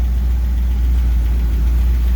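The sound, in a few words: 1979 Chevy K20 truck engine idling with a tick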